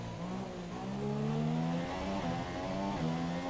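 A Formula 1 car in F1 2017 on PS4 Pro brakes hard into a corner, its high-revving engine whine dropping in pitch through quick downshifts, steady and close, with no talk.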